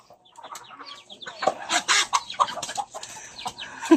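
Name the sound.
chickens clucking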